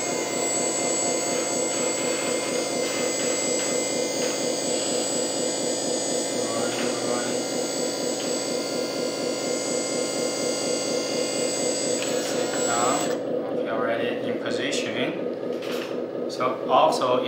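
A motor on a metal-chassis 1/14 8x8 MAN TGS RC hydraulic dumper truck whines steadily and close while the dump bed lowers, a constant buzzing drone that breaks into shorter stuttering bursts near the end.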